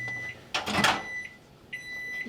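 Microwave oven in a kitchen giving short electronic beeps, several evenly spaced tones near and clear, with a brief burst of clatter partway through.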